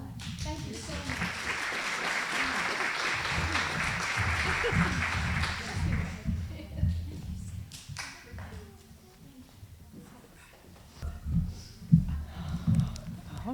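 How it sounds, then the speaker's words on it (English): A crowd at an education leadership awards ceremony gives a round of applause, dense and steady for about six seconds, then it fades out and a person starts talking. "one more round of applause"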